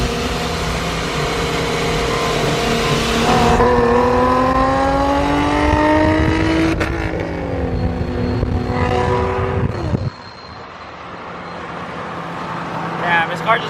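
A tuned Infiniti Q50 accelerates hard through rising engine pitch and a gear change, its loud drone climbing again before cutting back sharply near the end, with voices talking over it.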